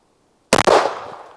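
A Smith & Wesson Model 28 Highway Patrolman revolver fires a single shot at a soda can outdoors, a sudden loud sharp crack after silence that fades into a rolling echo, with no talking.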